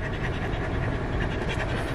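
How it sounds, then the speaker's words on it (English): A dog pants steadily up close in San Diego, a fast, even breathy rhythm of quick huffs running through the whole stretch with no talk over it. "That's my dog."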